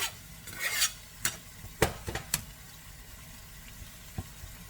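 Leeks frying and being stirred in a pan for a homestyle beef and bean dish, with scattered utensil scrapes and soft sizzling, a few sharper clinks standing out against a quiet background.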